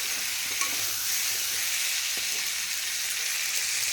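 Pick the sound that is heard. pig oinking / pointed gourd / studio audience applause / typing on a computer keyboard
pointed gourd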